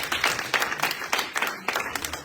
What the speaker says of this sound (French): L'applaudissez très fort.